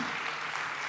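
Audience applause for a startup competitor named Marco at a diplomatic startup challenge event, a brief, dense, steady wash of many hands clapping, close and fairly loud, with no voices on top.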